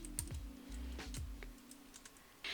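Python code being typed on a computer keyboard, a brief run of distinct, close key taps with short pauses between them, alone in a quiet room.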